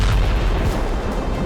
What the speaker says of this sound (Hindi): धमाके हुए